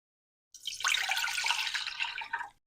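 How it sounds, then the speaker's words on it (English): Pickle brine is poured from a jar into a pot in a home kitchen, making a steady splashing pour that lasts about two seconds and ends abruptly. "we're going to pour this into a pot so that it can get hot"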